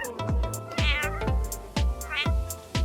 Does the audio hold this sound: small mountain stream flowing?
no